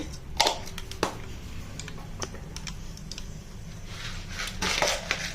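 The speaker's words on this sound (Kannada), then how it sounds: "ಈಗ ಎಣ್ಣೆ ಕಾದಿದೆ, ನಾನು ಸಾಸಿವೆ ಹಾಕೊಳ್ತಾ ಇದ್ದೀನಿ" Mustard seeds hit hot oil in a pan and pop in scattered, sharp crackles and ticks over a low, constant background sizzle.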